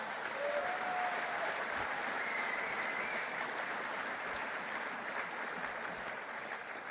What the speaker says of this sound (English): Yes, give him one more round of applause.